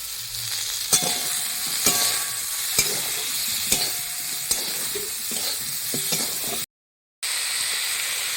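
Turmeric and green chilies go into a hot frying pan with a steady sizzle, while a utensil scrapes and clicks against the pan at a regular rhythm, close and fairly loud.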